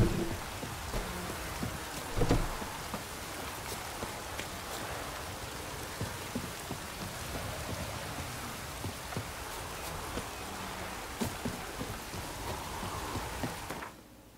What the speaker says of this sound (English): 一天到晚在下雨啦，烦死了。